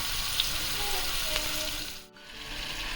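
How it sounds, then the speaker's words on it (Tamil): Tandoori butter chicken frying in a pan gives a steady sizzle and crackle that dips briefly near the end, with no talking. "இப்போது இது நல்லா வேகட்டும். 2 to 3 minutes ஆன உடனே நம்ம திருப்பி விடலாம்."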